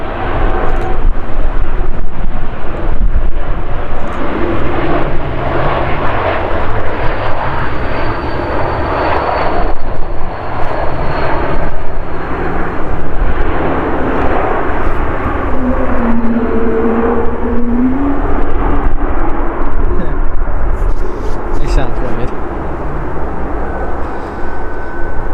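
Loud aircraft engines roar at Manchester Airport, a continuous jet rumble and whine with shifting tones as a plane moves nearby, heavy throughout with wind buffeting the microphone.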